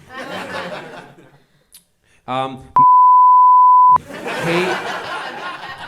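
A steady electronic censor beep lasts about a second, cutting off speech; talking and laughter surround it on both sides.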